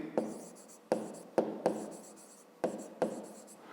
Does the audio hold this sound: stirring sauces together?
no